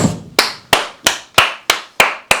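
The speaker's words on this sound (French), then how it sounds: "On peut s'applaudir" In a motorcycle workshop building a turbocharged Hayabusa, loud, close hand claps ring out in a steady rhythm, about eight sharp claps spaced evenly with a short ring after each.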